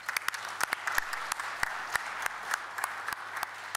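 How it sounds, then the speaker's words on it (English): Conference audience clapping in a room, a thin, moderately loud round of applause with distinct individual claps popping out over a continuous patter, steady for a few seconds with no talk. "Please give yourself a round of applause."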